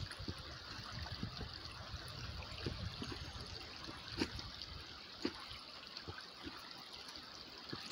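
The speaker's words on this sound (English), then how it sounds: "the area we call the stream leading to the river" A small stream trickles and babbles steadily toward a river outdoors, a faint, continuous watery wash with occasional louder splashes and drips.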